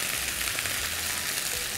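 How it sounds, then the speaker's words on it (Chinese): Chicken breast pieces sizzle in a hot pan while being stir-fried, a steady, close, unbroken frying hiss with a low rumble underneath and no voices. "开始上色之后，我们再开始翻炒。"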